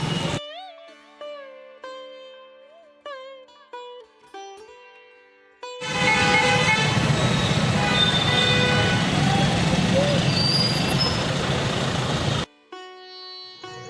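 Dense road traffic at a road crossing along the Narmada parikrama foot pilgrimage near Sehastrdhara, a loud steady roar of passing vehicles lasting about six seconds between quieter stretches of tonal music.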